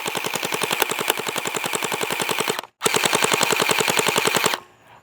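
Gel blaster firing tracer gel balls in long rapid full-auto bursts, a steady loud mechanical rattle of shots that stops briefly, resumes and then cuts off.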